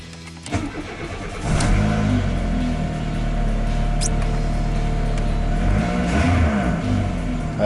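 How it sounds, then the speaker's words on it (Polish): A Volkswagen Polo Classic 1.4 AEX engine cranks briefly, catches and settles into a steady, loud idle close by, running on without any talk. "Sprawdzimy, czy odpali"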